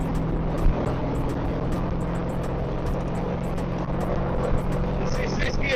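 Engine of a Chevrolet Camaro with a T56 transmission droning steadily while cruising in high gear on the road, a continuous low rumble with wind noise and faint rattles, while people talk over it.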